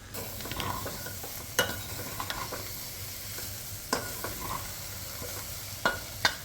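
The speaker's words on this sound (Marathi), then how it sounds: "दोन मिनिटे छान असं तांदूळ आणि डाळ परतून घेऊया।" Rice and lentils are stirred and sautéed in a pan for dal khichdi. A soft sizzle runs throughout, with scraping strokes and sharp clicks from the spoon at irregular intervals, close up and with no talking.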